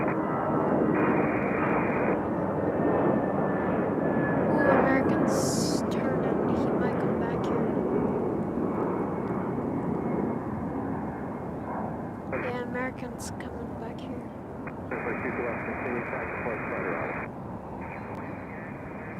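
A Frontier airliner takes off at Raleigh-Durham airport, giving a loud, sustained broadband engine roar that fades slowly over about twenty seconds, with people talking over it.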